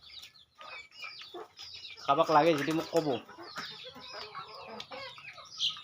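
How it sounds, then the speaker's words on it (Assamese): Local chickens cluck close by in short, repeated bursts, with one louder squawking run in the middle, while a person talks alongside them. "মোৰ লোকেল মুৰ্গী এইগিলা মুৰ্গী আছে"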